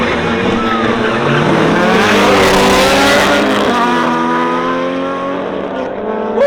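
Honda front-wheel-drive turbo drag race car at a drag event in Songkhla, accelerating hard with a loud, rising engine roar that holds steady throughout, close and dominant.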